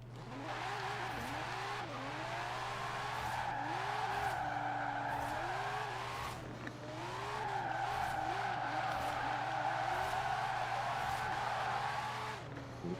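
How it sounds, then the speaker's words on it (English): Car drifting in Forza, engine droning under long sustained tire squeals that rise and fall in pitch across two extended slides. "I know it doesn't look like a drift car, but this thing gets sideways and then some"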